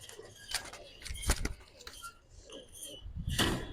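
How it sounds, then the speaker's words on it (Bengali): Silver pigeons at a pigeon fair shuffle and flutter nearby, with soft cooing, wing flaps and light clinking sounds scattered through the clip. "অনেক চঞ্চল বিজি কবুতর"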